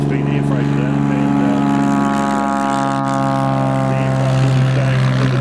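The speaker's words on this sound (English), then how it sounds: "here is an MD520 no-tar operated by gun technology" An MD520 NOTAR helicopter flies at the Warbirds Over Wanaka air show, its steady droning engine and rotor tone holding loud and continuous throughout, with a commentator talking over it on the PA.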